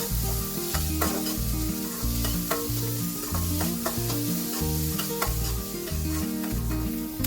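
Finely chopped onions sauté in a frying pan, sizzling steadily while a utensil keeps scraping and stirring in a regular rhythm, close and continuous.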